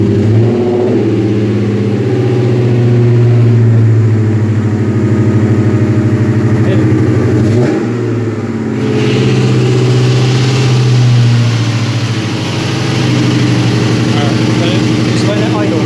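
A 1999 Ford Mustang GT V8, freshly fitted with a new intake manifold, runs loud and close with a steady idle and slight dips in pitch, while someone speaks briefly over it.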